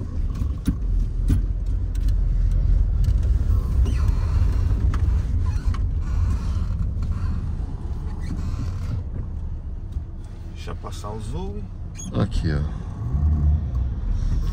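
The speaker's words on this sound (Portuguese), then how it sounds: "carro a pilha é um problema. É aquele barulho que eles fazem em andamento agora." An electric car rolls over a cobblestone street, making a steady rumble with creaks and rattles. People talk over it throughout.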